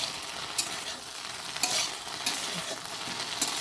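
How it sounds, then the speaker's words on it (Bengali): Okra (bhindi) frying in hot oil in a home kitchen, giving a steady soft sizzle with occasional louder scrapes and stirs of the pan at intervals, with no talking. "এবার ঢেঁড়সগুলো কী হয়েছে, এখনও ভাজা হয়নি, আর অল্প ভাজবো"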